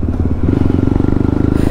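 Motorcycle riding, a loud, close, rhythmic engine putter with steady rapid pulses and rattling, recorded on board.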